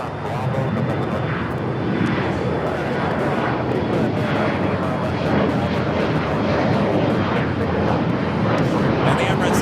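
A jet airliner on final approach to land at Los Angeles International Airport, its engine roar steady, loud and broadband throughout with no break.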